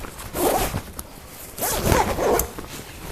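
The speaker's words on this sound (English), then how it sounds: "So this zipper system can go all the way around" A zipper on an REI Trail 40 backpack is pulled open around the pack in two quick, rasping pulls with a pause between them, close and clear.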